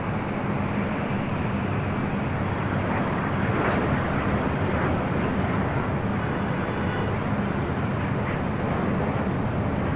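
An Iberia airliner taxis toward Tom Bradley terminal at LAX at night, a distant, steady low jet rumble mixed with wind noise, with no one speaking.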